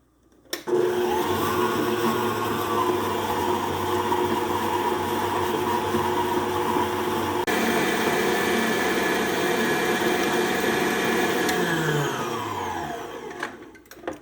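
An electric mixer beating butter and sugar into a cream for cinnamon cookies, whirring steadily and loudly for about thirteen seconds, the pitch shifting midway before the motor winds down and stops.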